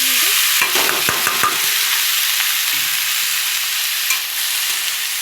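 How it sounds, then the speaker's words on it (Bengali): Leafy greens drop into a hot pan for a Bengali chorchori and sizzle loudly and continuously, with a few quick clinks and scrapes near the start. "এবার শাকটা বসিয়ে দিই এই যে হয়ে গেছে এগুলো আমি এবার শাকটা দিয়ে দিচ্ছি"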